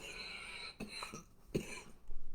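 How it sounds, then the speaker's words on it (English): A few short, harsh coughs burst out close by in quick succession, with a brief pause between them against a quiet background. "stupid cough."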